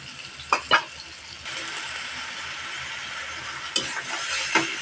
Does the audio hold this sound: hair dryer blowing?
no